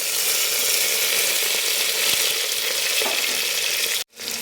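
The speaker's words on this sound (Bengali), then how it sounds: "আমার পেঁয়াজটা যেন ভাজাই হয়ে এসছে" Onion and thinly sliced medium tomato fry in a pan with a steady, close hissing sizzle that runs throughout, then cuts off abruptly near the end.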